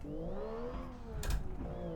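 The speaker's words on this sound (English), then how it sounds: "So we got turbo, we've got lots of revs." A turbocharged car engine in the Automation video game revs with rising and falling tonal whine, fairly faint, with a brief louder burst midway.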